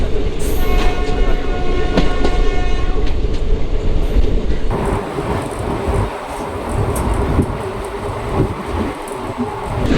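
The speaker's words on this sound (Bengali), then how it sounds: "আর আমাদের ট্রেন এখন ছেড়ে দিয়েছে পালাকাট রেলওয়ে স্টেশন থেকে" Passenger train running at night after leaving Palakkad railway station, heard from inside a carriage: a loud, steady rumble with rhythmic wheel clatter, a horn blast early on, and no talking.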